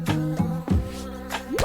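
Cartoon homing ice cubes shaped like flies buzz through the air, several short whiny insect-like drones rising and falling in quick bursts, loud and close, with no talking.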